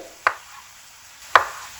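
A knife cutting through potatoes, two sharp isolated chops about a second apart on a board, close and clear against quiet background.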